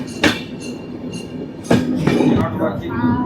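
Kirandul passenger train 58501 on the Visakhapatnam–Araku line runs between hills, a close, steady rumble broken by sharp rail clacks and bangs, with voices murmuring in the carriage.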